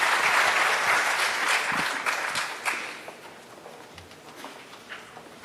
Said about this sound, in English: Another round of applause for our students from the Model United Nations Club.